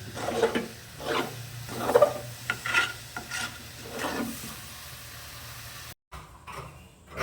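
A thick coconut candy mixture is stirred in a pan, giving repeated scraping strokes in an uneven rhythm, close and moderately loud, with a brief drop to silence near the end.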